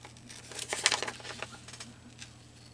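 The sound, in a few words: cutting paper for a junk journal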